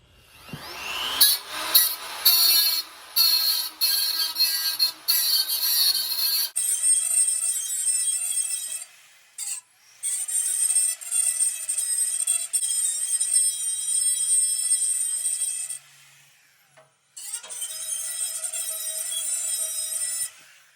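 A small handheld grinder, not an angle grinder, strips brush hog metal to bare steel on a farm, whining loudly and steadily in long bursts with brief pauses between passes.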